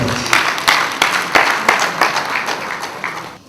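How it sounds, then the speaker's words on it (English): An audience at a Nigeria-China skills acquisition event applauding, a burst of close, fairly loud clapping that tails off over a few seconds. "give it up for Mrs. Ture Yar'Adua, a hand of applause"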